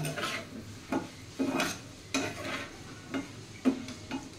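Cumin powder and freshly grated ginger sautéed in a pan on medium heat, with a spatula scraping and stirring in a steady rhythm of soft clatters about twice a second over a faint sizzle, close and quiet.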